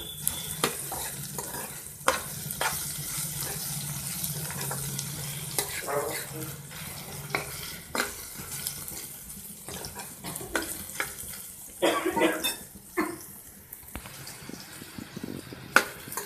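Gentle sizzling as snake gourd pieces, green chillies and tamarind cook in a pan, with scattered scraping and stirring clicks throughout, close by and steady at a moderate level.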